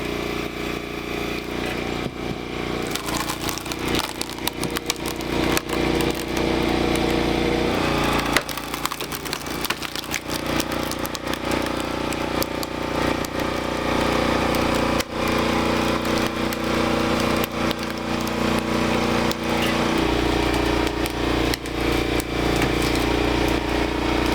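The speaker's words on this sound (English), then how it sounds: "hearing that sharp crack as it effortlessly snaps those thick, stubborn logs into perfect strips of kindling" A machine on Yakushima splitting thick logs into kindling strips, with loud, steady mechanical running throughout and repeated sharp cracking and splintering bursts over it.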